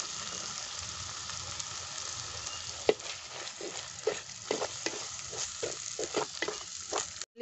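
Tomato and ginger-garlic paste fry in a pan for egg biryani, giving a constant, close sizzle with rhythmic stirring scrapes and knocks of a spoon against the pan in the second half.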